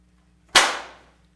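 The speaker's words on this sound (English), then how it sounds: "tonight you may hear a sharp gunshot across the plains" A single sharp Foley gunshot made live for a radio show, with a sudden loud crack that decays quickly into a short tail and is heard alone.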